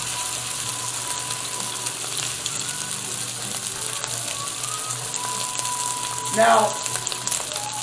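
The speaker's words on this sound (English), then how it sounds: "I just want to sear it on super high for at least a minute" Meat searing on super high heat in a hot, smoking pan, a steady loud sizzle with a brief scrape near the end, while someone speaks a single word.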